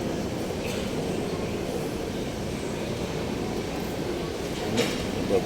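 A Manila MRT metro train rumbles steadily, a close, continuous low roar with rattling that holds level throughout and swells slightly near the end.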